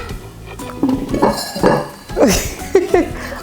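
A vegan hummingbird cake pan is flipped over, giving several close clanks and clatters of metal against a plate or counter spread over a few seconds.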